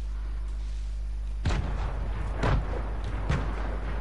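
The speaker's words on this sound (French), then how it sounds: "on va jeter les grenades" Grenades exploding in a video game: three or four dull booming blasts go off about a second apart over a steady low background hum, fairly muted.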